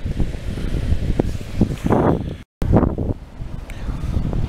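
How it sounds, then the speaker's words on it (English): Wind gusting across a UK beach, buffeting the microphone with a steady low rumble that swells and eases, briefly cutting out for a moment midway, with no one talking. "If you can hear me over the wind."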